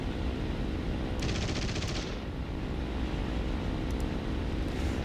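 In War Thunder, an aircraft machine gun fires a rapid, sustained burst under a steady roar of engine and wind, with a brief brighter rattle early on.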